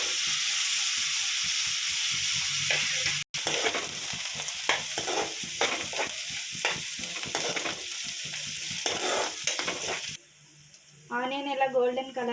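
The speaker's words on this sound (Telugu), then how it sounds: "ఉల్లిపాయలు కొంచెం గోల్డెన్ కలర్లో వచ్చే వరకు ఫ్రై చేయండి." Onions and coriander leaves frying in a pan until golden, a bright crackling sizzle with frequent stirring scrapes, close and steady, quieting near the end as a voice briefly speaks.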